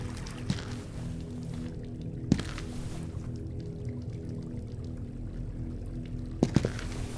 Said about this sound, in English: That's where the water is coming from. There was water flowing here